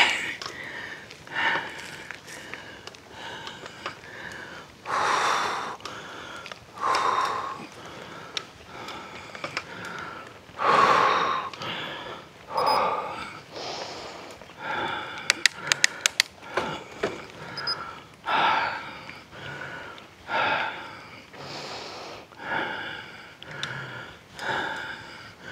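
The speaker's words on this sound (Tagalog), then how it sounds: "Hingal." Heavy, rhythmic panting breaths from someone climbing a steep uphill trail toward a beach in Ternate, Cavite, each gasp close and loud, repeating steadily, with no talk over it.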